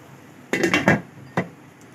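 A lid set down onto a cooking pot while aloo palak cooks: a cluster of three or four quick metallic clanks, then one more clink a moment later, close and distinct against a quiet kitchen.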